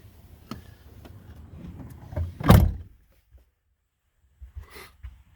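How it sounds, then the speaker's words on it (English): The door of a 2008 Roadtrek 210 camper van is closed. Soft handling noises come first, then one loud slam at about two and a half seconds, followed by near silence and a few faint light knocks. "I'm going to close the door."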